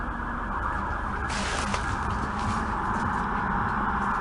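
A steady electronic siren or alarm wails continuously at moderate distance, with no voices.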